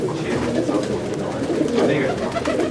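Pigeons cooing softly in a low continuous murmur at a pigeon fanciers' gathering in Karachi, close by, with a person talking over them.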